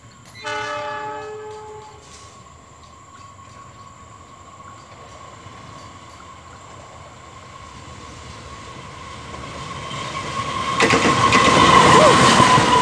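A lone locomotive with no carriages passes Cibinong station in the afternoon. A loud horn blast opens, then a rumbling drone builds steadily as the engine draws nearer and grows loudest at the end.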